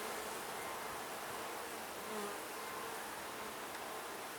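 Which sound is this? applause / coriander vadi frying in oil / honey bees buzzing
honey bees buzzing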